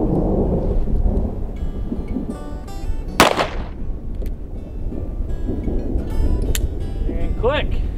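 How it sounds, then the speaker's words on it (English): Thunder rolls through a rainstorm with steady rain hiss, and a sharp crack sounds near the middle among fainter pops. A voice speaks at points. "Thunder for the Thunderer."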